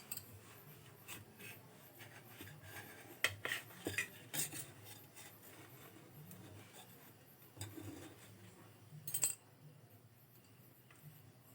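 A metal spatula scrapes and taps against a plate while lifting pieces of soft semolina snack, with faint, scattered clinks and rubs close by.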